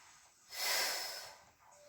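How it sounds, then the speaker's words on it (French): A person exhales and inhales during an at-home abdominal workout, a single soft breath rising and fading, close and quiet with no talk. "Allez, expire et inspire."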